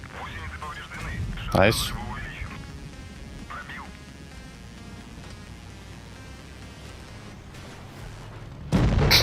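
Gunfire in a competitive tournament shooter game, a couple of loud heavy blasts standing out at the start and end, with a voice talking briefly.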